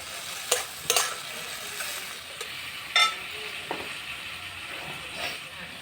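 Powdered chilli, turmeric and cumin with a splash of water being stir-fried in a pan, a soft continuous sizzle broken by a few sharp scraping strokes of the spatula, fairly quiet and close.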